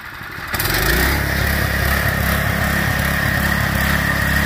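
A homemade go-kart built from a lawn tractor drives off, its small engine starting with a sudden rise and then running in a steady, loud, even drone throughout, with no talk.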